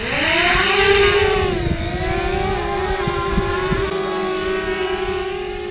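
A DJI Spark drone spins up and lifts off, its propellers giving a loud, close, steady buzzing whine that dips slightly in pitch as it rises and holds.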